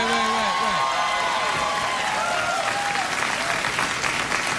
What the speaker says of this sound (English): I'd just like to thank the studio audience for that excellent clapping along with the email jingle.